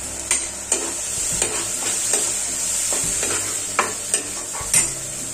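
Ground cumin and coriander masala paste with garam masala fries in a pan for a Nepali festival dish, a steady close sizzle broken by repeated scraping stirs of a spoon at irregular intervals.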